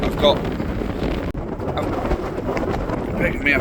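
Strong wind buffets the microphone in a steady roar with gusty swells, close and loud throughout, on a hillside on Chrome Hill in the Peak District.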